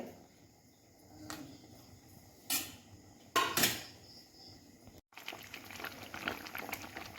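Mustard curry with pabho fish boils in a pot, a soft bubbling simmer under crickets chirping in the background, interrupted by a few clinks of a pot or utensil.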